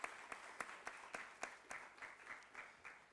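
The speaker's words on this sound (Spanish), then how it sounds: "denles un aplauso, por favor" Audience applause at a Saturday talk on emerging technology, honoring scientists in attendance: a steady, moderately faint patter of many hands, with a few sharper claps standing out from the crowd.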